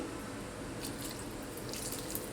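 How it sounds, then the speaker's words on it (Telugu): Water from a tap or spoon being added to punugulu batter in a kitchen, a steady soft running trickle with a couple of brief brighter splashes, close and fairly quiet. "ఒక 3-4 స్పూన్లు వేసుకున్నాను నీళ్ళు"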